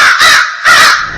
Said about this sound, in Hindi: ये हमारा कौवा ही है।